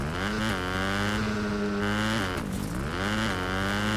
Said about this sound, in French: je vais pouvoir passer du bon moment sur ma moto